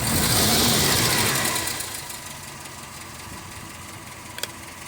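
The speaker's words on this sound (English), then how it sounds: "That's a low idle, but it's very stable." A DS wagon engine settles to a low, steady idle after a louder revving start, then runs evenly and close by with a brief click near the end, no voices.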